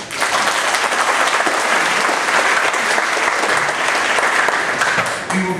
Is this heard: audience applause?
yes